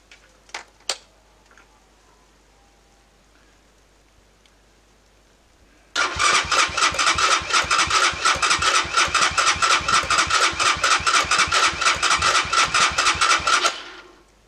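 A Viking 250cc quad bike with a PZ30 carburetor cranks and catches after a few quiet clicks, then runs in a loud, rapid, even idle chug close by until it cuts out.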